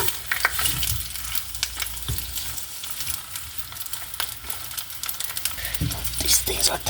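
Miniature sausage patties fry in a pan with a steady crackling sizzle, punctuated by sharp pops and scrapes as they are flipped, close and moderately loud, with brief talking in the background.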